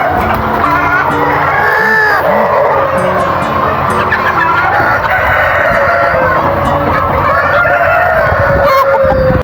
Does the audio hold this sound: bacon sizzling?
no